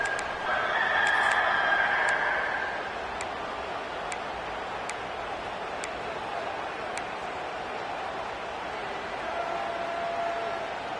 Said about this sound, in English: As the rooster crows